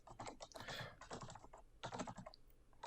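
An old Wacom Intuos 3 medium drawing tablet gives off a quick run of light, close plastic clicks in short irregular bursts, with no talking over them.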